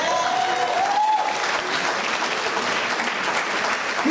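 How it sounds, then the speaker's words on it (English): Steady, dense applause from a crowd at a political campaign kickoff rally, sustained and even throughout with no pauses. "Give him a round of applause"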